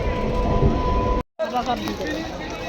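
Steady loud rumble and hum of a train at Bongaon station platform, broken by a brief cut, then continuing with rattling and faint station noise.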